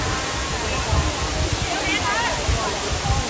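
Water from a waterfall splashes down in a dense, constant roar, loud and close throughout, with voices faintly mixed in.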